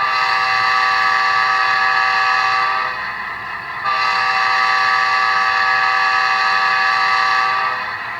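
The K5LA air horn on a Rapido FL9 model diesel locomotive sounds two long, loud, chord-like blasts, separated by a brief gap of near quiet.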